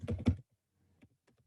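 A short burst of keystrokes on a computer keyboard, a few quick close clicks followed by faint scattered taps.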